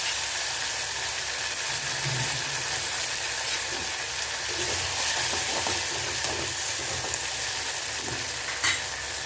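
Tomatoes sauté in a pan with onion for a jackfruit seed kuzhambu, giving a dense, even, rain-like sizzle that holds steady throughout, close by, with faint stirring scrapes and no talking.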